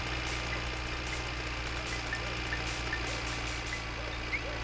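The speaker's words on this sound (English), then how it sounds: "Apologies if there's a lot of tractor noise, I'm aware of it." Tractor engine in the video game My Winter Car runs in a steady, monotonous drone, a constant low rumble holding level throughout with no talk over it.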